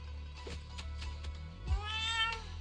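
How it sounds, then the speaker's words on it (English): A chubby orange cat meows softly a few times at close range, a short drawn-out mew near the end standing out over a quiet background hum. "Oh, the chubby orange cat."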